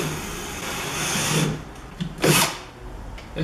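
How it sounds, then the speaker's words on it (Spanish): A power drill bores a hole through a scooter's storage trunk for a cable, giving a close, whirring grind that rises and falls in brief bursts over a few seconds, with no voices. "Ahora haré otro taladro para pasar un cable que alimente la luz LED."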